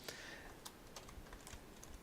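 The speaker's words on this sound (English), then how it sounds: "you're going to be typing in this command" A computer keyboard clicks softly and faintly as a command is typed, a quick run of light keystrokes over a hissy background, with no voices.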